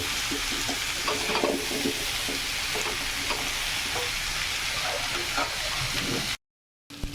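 Elephant foot yam, taro and potatoes sizzle and crackle steadily in a hot pan, with occasional stirring sounds, before a brief cut to silence near the end.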